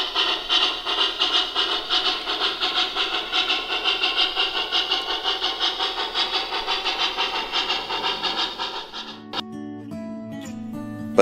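An MTH model train locomotive with ProtoSound 3.0 digital sound and a 5-pole flywheel motor runs with steady, loud rhythmic chuffing and clatter for about nine seconds, then gives way to different mechanical tones.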